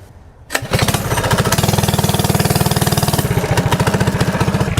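Modified mini bike engine starts and settles into a loud, steady chugging run with a fast, even beat, close by, with occasional throttle swells toward the end.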